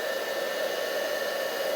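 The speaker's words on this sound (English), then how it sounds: "So switch your heat tool on and get it nice and hot first." A craft heat tool, switched on to heat up before watercolour stamping work, gives a steady, close whooshing blow with a constant whine and no talking.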